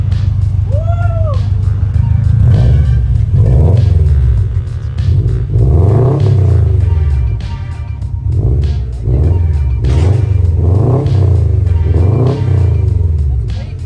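Subaru STI with an Invidia Gemini R400 exhaust revving repeatedly in a steady series of deep, rising-and-falling blips, loud and close, with an excited voice cheering between pulls.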